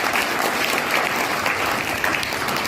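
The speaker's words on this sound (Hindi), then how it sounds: "एक बार मैडम जी के लिए जोरदार ताली" An audience at a motivational seminar breaks into a loud, sustained round of clapping for the madam, a dense wash of hands with no pauses.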